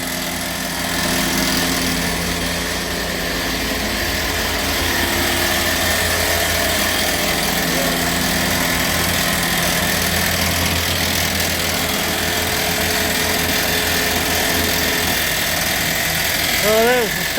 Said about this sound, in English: Oh, that was the starter motor whirring away because of the key. The water pump sounds a bit noisy.